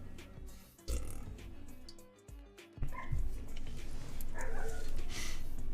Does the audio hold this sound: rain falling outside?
no